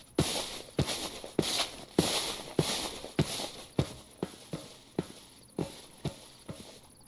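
Skeleton horse hooves in the Minecraft video game clop in a steady, evenly spaced walking rhythm, about a dozen crisp, close hoofbeats with nothing else around them.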